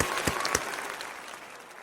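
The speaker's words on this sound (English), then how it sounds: "I'm going to give you a round of applause for mentioning it." A short burst of applause from a small group rises and then thins out over about two seconds, a dense patter of clapping heard fairly close with no voices over it.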